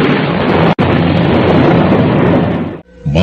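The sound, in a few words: thunderclap sound effect in a radio drama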